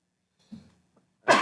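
A single sneeze bursts out loud and sharp at the end of a quiet stretch in a municipal heritage commission meeting, following a few faint breathy sounds and a soft vocal murmur.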